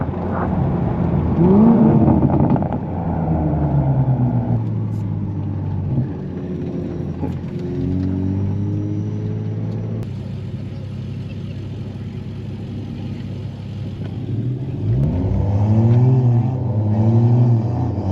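Engine noise from cars in a street race featuring a 500 hp MK5 Supra against a BMW M4, loud and continuous with rising and falling revs as a car brakes and then accelerates hard, with brief talk over it.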